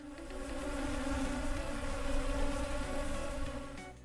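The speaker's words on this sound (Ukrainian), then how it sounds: "Маленькі комашки, які літають над квітками і збирають нектар." Bees buzz in a steady, close drone with a rich, humming tone that stays at an even loudness throughout.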